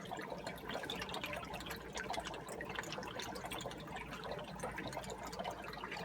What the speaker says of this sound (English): There's some water.